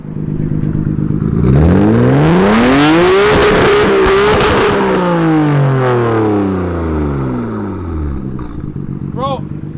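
A Nissan R32's engine revs up loudly, its pitch climbing and then falling away as it winds down, close by and continuous.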